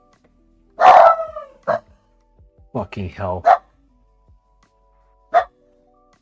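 A dog barks in sharp, loud bursts, four separate barks spread across a few seconds, while a voice swears between them close to the mic.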